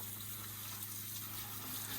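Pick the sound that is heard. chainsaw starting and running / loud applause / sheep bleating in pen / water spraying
water spraying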